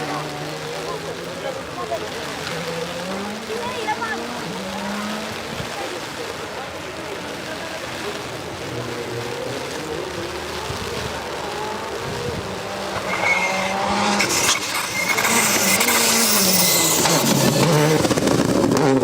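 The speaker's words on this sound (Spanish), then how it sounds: "pues viene el primer coche de ahí" A rally car passing on a stage of the Rallye de Pontevedra in Sanxenxo, engine rising as it approaches and roaring loudly past toward the end, with someone speaking over the approach.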